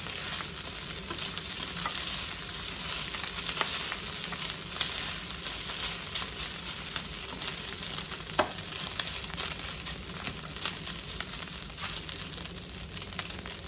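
Pork carnitas fry in a pot with a dense, constant sizzle, sprinkled with sharp pops and crackles of spitting fat, close and unbroken throughout.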